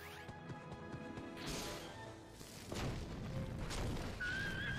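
A special soccer shot in the video game Inazuma Eleven Strikers 2013 erupts with whooshing, whistling effects, booming impacts and a crashing hit, layered over game music.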